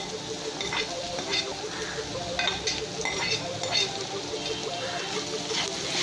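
Onions and garlic fry in a pan for pepper rice, giving a steady crackling sizzle throughout, broken by stirring scrapes and occasional light clinks of a utensil against the pan, close and moderately loud.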